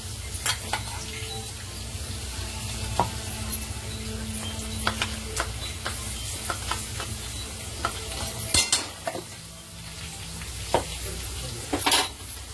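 A spoon stirs green chilli and garlic paste into fenugreek greens in a pan, scraping and clinking against the metal in irregular strokes over a soft, steady sizzle, close and fairly quiet.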